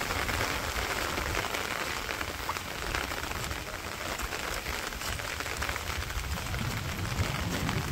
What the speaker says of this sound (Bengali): টিপ টিপ টিপ টিপ করে বৃষ্টি পড়ে